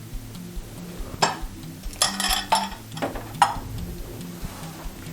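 A spoon mixing charlotte russe (sharlotka) batter in a bowl makes a few irregular scrapes and sharp clinks against the dish, close and fairly quiet, with pauses between strokes.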